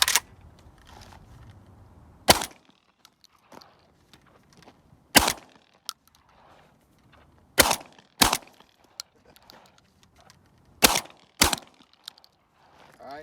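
Tuckinelli shotgun firing 9-pellet buckshot, a series of about seven loud sharp blasts spaced irregularly a couple of seconds apart, with quieter handling noise between shots.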